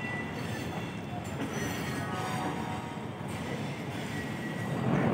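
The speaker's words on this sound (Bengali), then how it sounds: "তো চলে এসেছে লোকোমোটিভ আর কি ইঞ্জিন।" Diesel or electric locomotive rumbling steadily at a station as it arrives to couple with a Howrah–Bolpur Shantiniketan Express passenger train, a continuous broadband rail drone that swells louder at the end.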